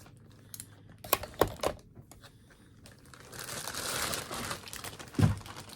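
Cutting open and crinkling a plastic mystery box bag up close, with a few sharp snips and rustles early, then a sustained crinkling rustle and a final thump, no talking.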